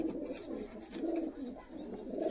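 Golden pigeons in a high-flying pigeon loft give soft, continuous low cooing that rises and falls in overlapping waves, close by and steady throughout, with no talk.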